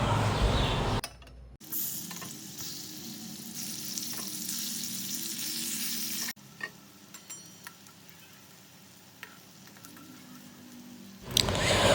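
Taro pieces fry in hot oil in a pan, a steady close sizzle and crackle running throughout with a few soft clicks, briefly dipping near the start before returning at full strength.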